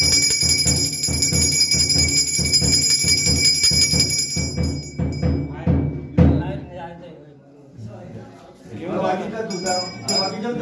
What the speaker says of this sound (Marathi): समय घंटी वाजवतो